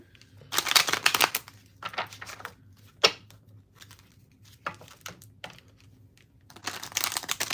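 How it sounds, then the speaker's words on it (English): Cards from an oracle deck being shuffled and pulled, giving close, dry riffling and sliding bursts in several clusters with quiet gaps between them. "let me pull you guys some cards from the Wisdom of the Oracle deck"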